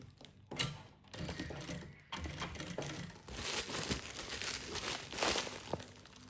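A sewing machine stitches bias binding onto a lunch bag in quick mechanical bursts with brief pauses, alongside fabric rustle and crinkle, faint and close.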